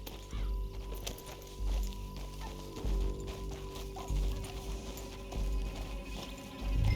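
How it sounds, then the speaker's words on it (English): Horse hooves clip-clopping in Red Dead Redemption 2, a steady rhythmic gait of repeated hoofbeats at close range over low rumbling game background, with no talk. "Back on your horse. Let's get after them."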